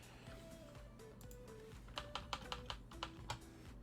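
Computer keyboard keys are pressed in a quick run of light, faint clicks near the end, after a quiet start.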